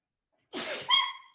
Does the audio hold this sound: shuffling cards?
no